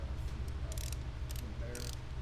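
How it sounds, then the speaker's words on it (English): A screw being tightened on a compound bow's limbs during a limb replacement, giving quiet, short clicking ratchet bursts over a low steady hum, close by. "So now I'm just tightening this back down."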